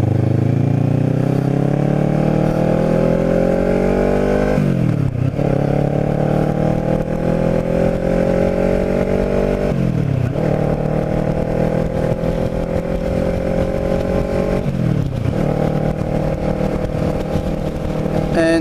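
A Kawasaki motorcycle rides along a road, its engine loud and close, rising steadily in pitch through each gear before a brief dip at every shift, with steady wind roar underneath.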